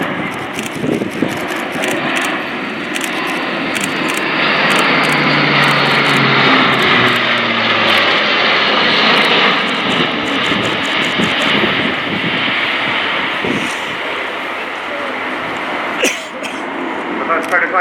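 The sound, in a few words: Airbus A400M Atlas turboprop engines in flight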